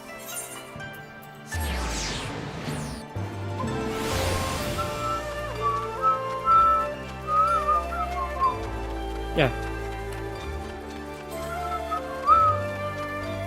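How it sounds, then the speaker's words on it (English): A person whistling in a game: short, thin melodic whistle phrases over background music and ambience, with speech and a brief sweeping effect around them. "Why am I not whistling right?"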